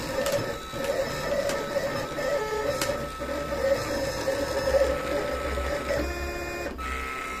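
A vinyl cutting machine cuts out a logo for a t-shirt print, giving a steady, busy mechanical whir with rapid ticking and clicking that runs continuously throughout, close and fairly loud, with no talking.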